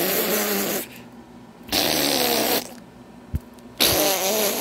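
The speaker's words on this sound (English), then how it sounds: "You fart on me." A cartoon fart sound effect in an animated comedy, a few loud bursts separated by short quiet gaps, standing alone without talk over it.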